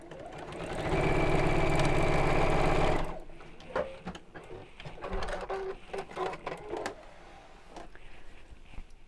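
A sewing machine stitching a quilted drawstring bag runs in one loud steady burst for about two seconds, then stops, followed by quieter handling clicks and fabric rustles.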